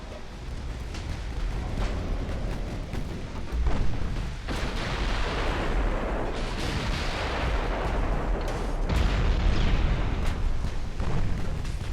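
Heavy naval gunfire from 8-inch and 6-inch guns in the naval warfare game Ultimate Admiral: Dreadnoughts, a continuous rumble of loud booming shots and distant explosions rolling together with no clear pauses.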